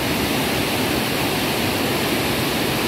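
Water roars down the Zabumbão dam spillway in Paramirim, Bahia, a loud, unbroken, broadband rushing roar that fills the whole stretch without pause.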